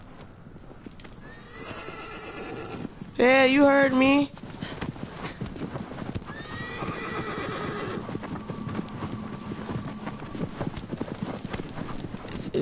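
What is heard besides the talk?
horse hooves and neighing in Shadow of the Colossus video game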